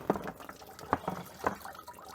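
Fluid draining from the side plug of a Ferrari 456 GT V12 engine splashes and drips in a few faint, irregular spatters, heard up close with no talking.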